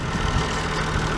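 A John Deere rotary hoe towed behind a tractor, with the engine idling in a steady, low, continuous rumble at close range and no talking.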